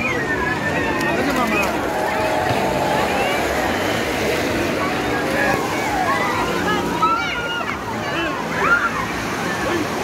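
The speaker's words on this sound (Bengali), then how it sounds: "প্রচুর বড় বড় ঢেউ আমরা দেখতে পাচ্ছি, পায়ের কাছে এসে আছড়ে পড়ছে" Big sea waves crash and wash up onto a beach in light rain, a loud continuous surging roar with swelling splashes. A voice talks over the surf throughout.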